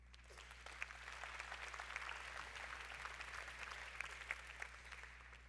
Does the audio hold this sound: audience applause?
yes